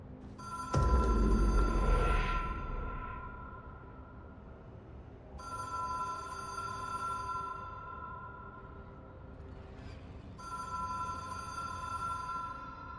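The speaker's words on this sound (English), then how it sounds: "The phone's ringing for me." A telephone rings in the video game Control, three separate bursts of an electronic ring spaced a few seconds apart, after a heavy low thud at the start.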